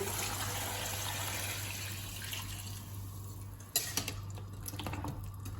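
Two litres of water poured into a cooking pot holding carrots and eggplant for riz au gras: a steady rushing pour under a low hum, followed by a few clanks of the pot.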